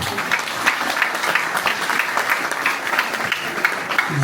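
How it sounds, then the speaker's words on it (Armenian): An audience at an Armenian community children's celebration in Strasbourg claps steadily, a dense, even patter of many hands at moderate loudness with no other sound on top. "Մեր բարի մասնագետին ծափահարեք"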